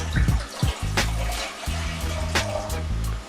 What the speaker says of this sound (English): Pour it in the pot.